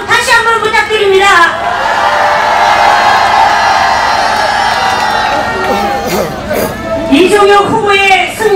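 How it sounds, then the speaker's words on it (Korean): A campaign rally crowd in Busan cheers, whoops and shouts loudly and continuously, with dense babble swelling and holding strong throughout, punctuated by scattered higher shouts. "여러분 뜨거운 함성 다시 한번 부탁드립니다"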